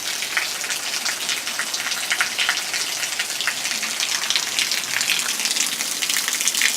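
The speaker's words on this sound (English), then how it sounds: "It's 7:50 and the rain finally got here." Steady evening rain comes down outdoors, a dense even hiss of drops hitting surfaces, close and continuous with no voices.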